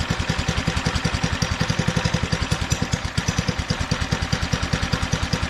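A Doodle Bug DB30 minibike engine runs with no choke, a loud, close, steady rapid chugging with an even firing rhythm and no talk.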